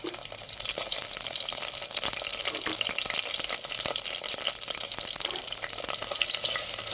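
Dry fish pieces fry in hot oil for a village-style dry fish curry, giving a steady, close, dense sizzle with occasional stirring clicks and no talk.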